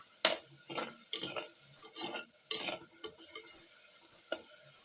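Ingredients for a home-style kavalai fish curry being sautéed in a pan, with a series of irregular scraping stirs and soft sizzling bursts, close and moderately loud, with no talking.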